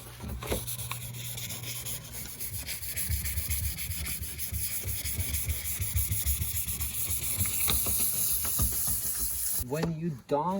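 Hand sanding scratches the surface of a car ahead of spray painting: a close, continuous rasping rub with rhythmic strokes that build steadily, ending in a short burst of other noise.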